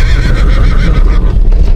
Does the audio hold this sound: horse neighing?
yes